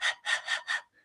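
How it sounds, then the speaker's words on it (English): Rapid fire breathing from a person, quick forceful huffs like a panting dog, four sharp breaths in a steady rhythm followed by a fainter fifth, close and alone with no talk. "your breath with the fire breaths is almost like a dog when it's panting"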